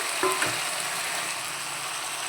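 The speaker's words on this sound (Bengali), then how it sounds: "ইলিশ মাছের মাথাটা দিয়ে দিচ্ছি ভাজা।" A hilsa fish head fries in ginger, green chili and turmeric paste with a loud, even sizzle throughout, a couple of quick spatula knocks near the start, and no voices.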